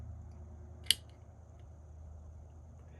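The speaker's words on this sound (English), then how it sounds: "when you release your finger from the trigger, you'll hear an audible trigger reset" One short, sharp mechanical click stands out against a quiet background hum, with nothing else happening.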